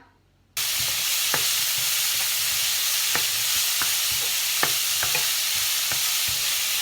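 Mushrooms, garlic, shallot and carrot hiss loudly as they are stir-fried in a pan. The sizzle starts abruptly and holds steady, with scattered sharp clicks of the utensil against the pan.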